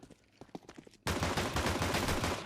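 Rapid gunfire from dual Beretta pistols in Counter-Strike 2 on a T-side pistol round, a sudden dense burst of shots following a few sparse pops, loud and sustained.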